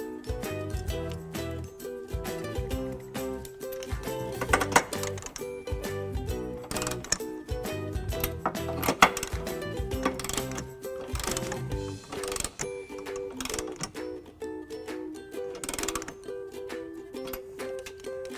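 A ratchet tightening U-bolt nuts on a 2014 Honda Accord trailer hitch install clicks in quick, uneven bursts, close and moderately loud, with no talk.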